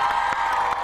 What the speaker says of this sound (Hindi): बहुत सारी तालियां इसके लिए।